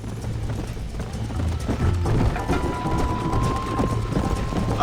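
Horse hooves clip-clop at a gallop in the Western game Red Dead Redemption, a steady rhythmic beat running under game music and ambient noise, with a sustained tone entering midway.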